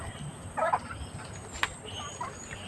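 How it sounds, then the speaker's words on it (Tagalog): Backyard chickens clucking noisily, a few short bursts of squawking fowl calls rising over a busy outdoor background at moderate distance. "Grabe kaingay ng mga manok ko"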